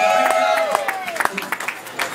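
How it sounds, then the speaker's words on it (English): A crowd claps at a ribbon-cutting opening of a Pinstripes restaurant in Georgetown, Washington, D.C.; the applause is steady and fairly close, with voices and a tonal sweep running through it. "Give another big round of applause, Bill."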